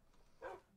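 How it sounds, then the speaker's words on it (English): A single short, faint bark from a Minecraft wolf, heard once in otherwise quiet surroundings. "Okay, Wolfie, stop barking."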